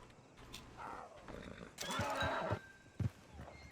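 A horse in Red Dead Redemption gives a sharp, close neigh and snort among quieter shuffling and movement, with a brief thump near the end.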